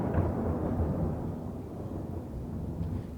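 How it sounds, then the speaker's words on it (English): A low, rolling rumble of distant thunder, faint and continuous, swells slightly and then tapers off. "Can't you hear the thunder in the distance?"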